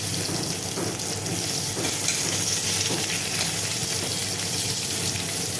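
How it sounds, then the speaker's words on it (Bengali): Chopped onions frying in hot oil for a snakehead fish curry: a steady, moderately loud sizzle and crackle that runs without a break, with no voices. "তো ডাইরেক্ট এই যে পেঁয়াজটা দিয়ে দিলাম"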